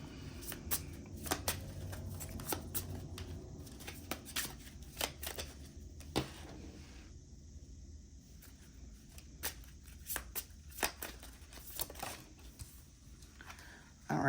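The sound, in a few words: shuffling tarot cards for a reading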